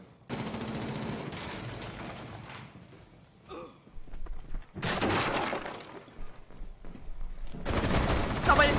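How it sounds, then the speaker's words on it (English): Gunfire in Rainbow Six Siege comes in loud sustained bursts, with a quieter stretch in the middle and a final volley, under a busy game mix. "Yeah, she's still shooting me."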